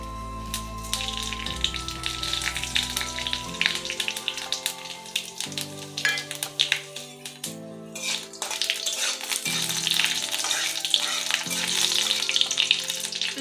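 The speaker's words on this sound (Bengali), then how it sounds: "সর্ষের তেল দিয়ে দিচ্ছি। দুটো শুকনো লঙ্কা, অল্প পরিমাণে 5 ফোড়ন।" Dry red chillies and five-spice seeds fry in hot mustard oil in a kadai, a steady close crackling sizzle with scattered pops and occasional utensil clinks, no voices.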